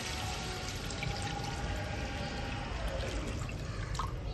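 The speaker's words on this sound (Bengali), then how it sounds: "দিয়ে দিচ্ছি সামান্য পরিমাণ জল।" Water pours steadily into a curry pan of fish and bori with green chilli paste, a soft continuous splashing trickle heard faintly and close, with no talking.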